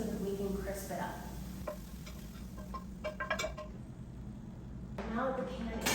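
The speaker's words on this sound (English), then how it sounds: "I'm going to give the beef more surface area on the pan so that we can crisp it up." Shredded beef for Cuban vaca frita sizzles in a hot pan while a utensil scrapes and stirs it, steady close frying under a speaking voice.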